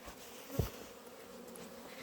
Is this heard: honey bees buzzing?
yes